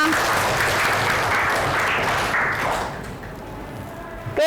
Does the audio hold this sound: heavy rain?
no